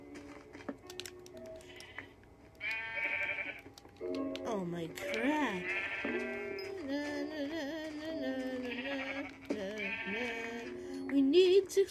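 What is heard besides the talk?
sheep bleating in a video game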